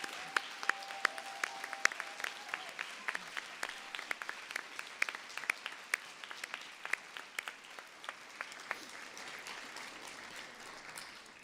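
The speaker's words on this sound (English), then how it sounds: "So a quick round of applause for them," Graduation ceremony audience applauding steadily for about eleven seconds, a dense wash of many hands with sharper individual claps standing out, slowly thinning toward the end; no talking over it.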